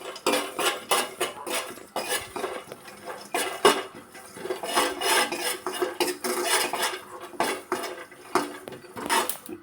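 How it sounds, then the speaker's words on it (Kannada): Spices dry-roasting in a pan with a spoon of white oil for an ivy gourd gravy give off dense, close crackles and pops, mixed with scraping as they are stirred, and no voices. "ನೋಡಿ, ಈಗ ಚಿಟಪಟ ಅಂತಿದೆ"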